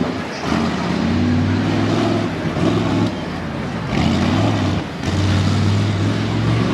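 A tough truck roars loudly and continuously as it races over dirt jumps at a Brookville, Pennsylvania event, its engine revving hard and surging with brief dips in between.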